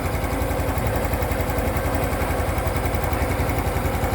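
Honda Wave 125i motorcycle engine idling up close, a steady, even mechanical putter with a fast regular pulse and no change in pace, alone without talk.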